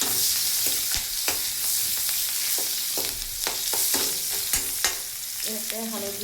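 Puthi fish and jackfruit seeds fry in a kadai, hissing with a bright, continuous sizzle while a spatula clatters against the metal in frequent irregular knocks and scrapes, loud and close with no voices.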